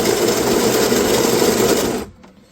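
Loud, steady whirring buzz of a cafe coffee grinder running for about two seconds, then cutting off abruptly into near silence.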